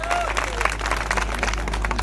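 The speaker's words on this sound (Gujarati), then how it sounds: "જેવા ખેલાડી છે આપણા નરેશ તુંબડા, એમના માટે એકવાર જોરદાર તાળીઓ થઈ જાય." Crowd applause and clapping at an Adivasi cultural gathering for the player Naresh Tumbda, a steady dense patter of many hands mixed with crowd babble, moderately loud throughout.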